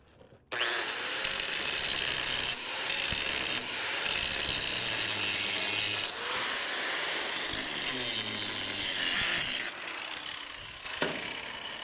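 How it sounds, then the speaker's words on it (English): An angle grinder cuts down the weld on a trailer coupler, a loud close rasping grind with a sustained whine that shifts in pitch as pressure changes, running steadily for about ten seconds. "So we're going to go ahead and grind this vertical portion down next."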